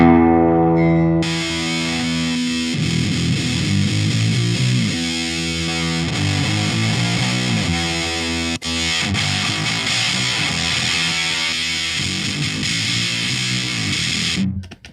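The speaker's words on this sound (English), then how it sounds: "The mid-cut scooped guitar tone" Heavily distorted electric guitar through a fuzz pedal set to a scooped, mid-cut tone plays sustained chords and riffs, loud and close, with no talking.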